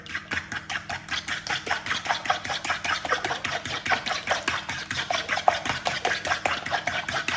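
Beaten eggs with salt for an omelette are stirred briskly in a bowl, a fast, even run of light tapping strokes that continues steadily at close range, with no talking.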